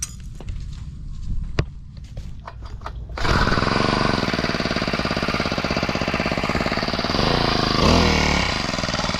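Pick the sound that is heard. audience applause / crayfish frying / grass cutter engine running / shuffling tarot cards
grass cutter engine running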